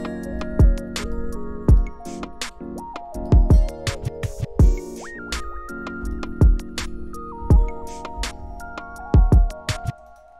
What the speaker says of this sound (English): This is a pretty cool ambient bell sound.